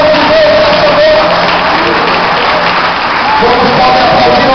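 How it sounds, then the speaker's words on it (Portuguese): A church congregation applauds during a service, loud, steady clapping filling the room with a broad wash of crowd noise and faint voices beneath it. "Vamos pode aplaudir e exaltar o nome de Deus nessa noite."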